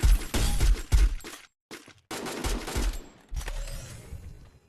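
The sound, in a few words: gunfire at enemies in a shooter video game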